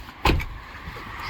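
A Ford Taurus with a random no-start fault makes one short, loud mechanical clunk as the key is turned, then only a faint low rumble follows, with no catch.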